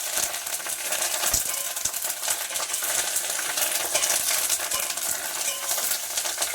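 Tempering spices for sambar crackle and sizzle in hot oil in a home kitchen, a continuous close hiss dotted with small pops and light metallic clinks of stirring.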